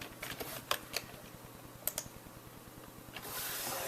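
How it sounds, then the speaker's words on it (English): Someone types a security answer on a computer keyboard with a few soft, scattered key clicks close by over a low electrical hum, then a rising hiss near the end. "I'm just going to type it in."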